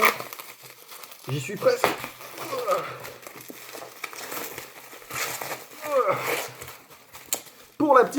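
Packaging of a Vivo X300 Pro phone crinkles and tears during unboxing in bursts of close rustling, while someone speaks throughout.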